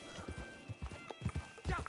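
A Mustang's hooves clip-clop in Red Dead Online in an uneven walking rhythm, each thud fairly close, with a voice talking over the steps.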